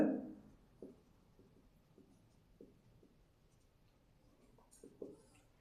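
Pen scratching on paper while a mathematical proof in abstract algebra is written out, a series of soft, short, close strokes with small gaps between them and no talking.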